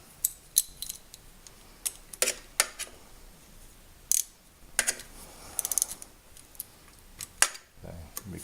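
Bolts on a 2003 Honda Accord power steering pump are tightened in turn, giving irregular metallic clicks and short ratcheting taps spread across the clip.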